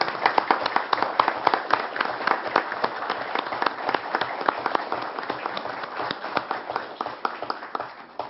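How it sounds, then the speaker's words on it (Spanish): An audience applauds in a ceremony honouring Minister Ana Pineda, a sustained crowd clapping of many dense, irregular hand claps that stays steady and fairly loud throughout, with no voices on top. "merece que le demos un fuerte aplauso y que le reconozcamos"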